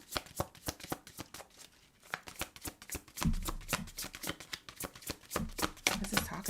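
A deck of cards is shuffled close by, with fast, crisp riffling bursts and soft slaps repeating in quick irregular runs, fairly quiet, with no talk.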